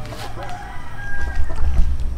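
Chickens cluck and squawk nearby in short bursts, with a rooster-like call mixed in over low background rumble.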